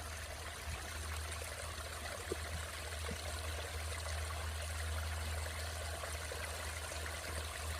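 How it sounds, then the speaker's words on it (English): Running water spills steadily from one garden koi pond into another, a continuous close trickling stream with a low rushing undertone and no voices. "One thing you quickly notice is the sound of running water here. It's one pond flowing to another pond."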